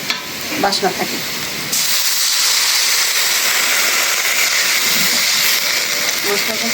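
Onions frying steadily for a beef curry with red potatoes, a dense continuous sizzle filling the pan after a brief stretch of clattering stirring at the start.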